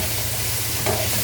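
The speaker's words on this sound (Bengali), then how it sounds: "দেখেন ডালগুলা সিদ্ধ করে রাখছি, এখানে একটু নাড়িয়ে নিব।" Boiled lentils being stirred with spices in a hot frying pan, a steady sizzle with soft scraping of the spoon, close and continuous, no voices.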